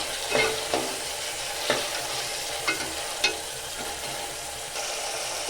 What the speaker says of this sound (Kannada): ನೆಕ್ಸ್ಟ್ ಇದಕ್ಕೆ ನೆನೆಸಿಟ್ಕೊಂಡಿರೋಂಥ ಬಟಾಣಿನ ಹಾಕೊಂಡು ಫ್ರೈ ಮಾಡ್ಕೊತಾ ಇದ್ದೀನಿ.